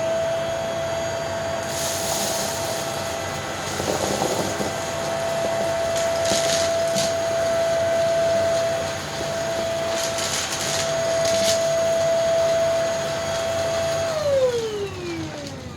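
A PRETTYCARE W100 budget stick vacuum runs steadily on a bare floor, a constant whine under bursts of hissing and rattling as debris is sucked up, then the motor pitch drops as it powers down at the end.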